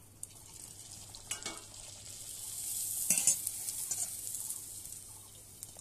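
A fuchka puri fries in very hot oil with a soft, close bubbling sizzle, lifted by a few brief scraping stirs and splashy bursts, fairly faint overall and without any talking.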